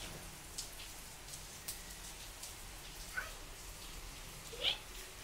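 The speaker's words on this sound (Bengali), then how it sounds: "তো দেখতেই পারতেছেন বৃষ্টির প্রভাব, শিলাবৃষ্টির প্রভাবটা কি পরিমাণে আছে।" Rain falls steadily at night in Dhaka during a hailstorm, a soft even hiss of drops on surfaces with a few sharper taps, distant and faint.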